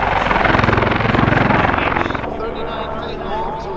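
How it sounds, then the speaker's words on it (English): A loud small single-engine helicopter thrums close by at an air show with a fast, pulsing rotor beat, then drops to a lower, steadier whine. "39 feet long, so it's considered a small size helicopter"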